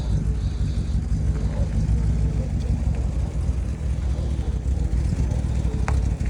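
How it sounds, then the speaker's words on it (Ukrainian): Septic tank pumping truck parked at a house, its engine and pump giving a steady low rumble with faint clanks and scrapes, running continuously at moderate distance. "Приїхала машина відкачати септик."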